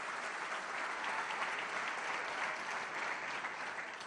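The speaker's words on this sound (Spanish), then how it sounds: "Un aplauso para este genio que tenemos en el equipo." A crowd applauds at a political gathering, with even, continuous clapping that sounds fairly distant and holds steady for several seconds.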